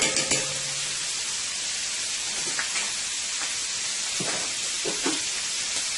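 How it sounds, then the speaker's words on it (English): Butter sizzling in a frying pan while shrimp cook for a beef and shrimp summer salad, a steady close hiss of frying with a few faint taps and stirs. "Let's take some butter into the pan here, not a lot, just a little"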